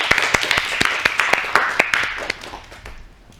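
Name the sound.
applause for group 1 in a classroom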